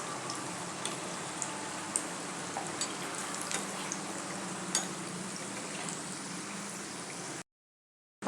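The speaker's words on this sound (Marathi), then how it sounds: "आता हे असे तेलात व्यवस्थित एकसारखे हलवत आपण याला तळून घ्यायचं आहे।" Pea masala bites deep-fry in hot oil with a constant bubbling sizzle and scattered crackles and pops as they are stirred, before the sound cuts out abruptly.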